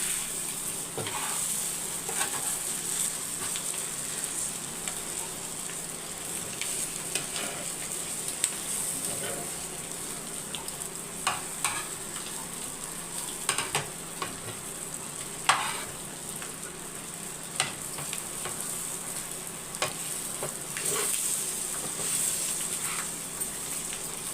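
Mutton thokku frying on a dosa griddle, a steady close sizzle running throughout with scattered scrapes and taps of a spatula against the hot iron.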